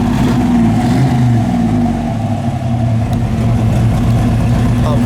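A 1973 Camaro restomod idling with its exhaust cutouts closed, giving a steady, loud, deep rumble close by that holds level throughout without revving.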